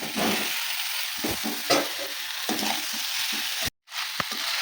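Fried potatoes and cauliflower hiss and crackle steadily in a pan of spiced masala with turmeric while being stir-fried for a rohu fish curry. The sizzle is close and continuous, broken by a brief cut near the end.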